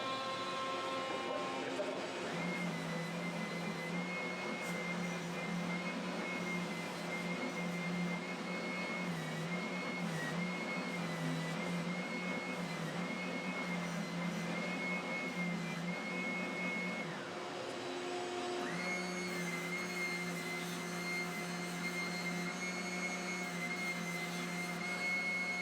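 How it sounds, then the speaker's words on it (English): Edge sander running steadily while smoothing the edge of a guitar body with 150 grit, a continuous whining motor drone whose tone shifts briefly as the workpiece is pressed and released. "we're going to go over to the edge sander, and we're going to clean up the edge with 150 and get everything final shaped"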